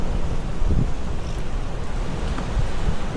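Strong wind from Storm Eowyn rumbling through a sheltered town square in Scotland, a steady low roar with slight gusting and microphone buffeting, with nobody speaking.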